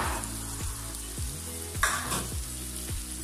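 Spice paste sautéing in oil for chicken dum biryani, a steady crackling sizzle with occasional stirring scrapes, set under background music with repeated falling tones.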